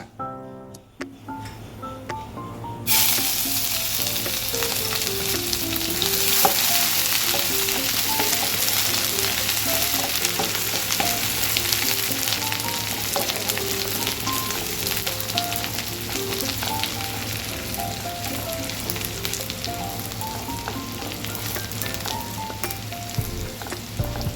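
Crushed ginger, garlic and green chillies fry in hot oil for Hyderabadi pulao, a loud continuous sizzle that flares after a few seconds and then holds steady with light stirring throughout.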